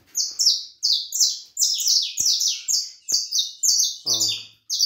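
Saffron finch (canário-da-terra) in a cage, chirping in rapid bright repeated phrases, loud and close, with a brief low burst of other sound near the end.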